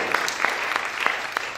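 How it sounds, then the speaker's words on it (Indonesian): A church congregation claps together, with sharp bursts landing at a steady, even pulse against a continuous wash of clapping noise. "tepuk tangan buat Tuhan"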